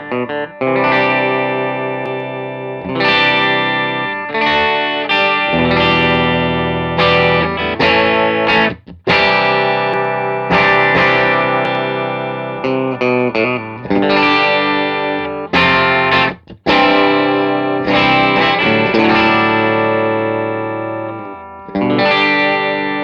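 An electric guitar runs through a Muir Audio Design Morphtone EQ pedal, strumming full distorted chords and riffs with brief breaks, loud and continuous with no voices.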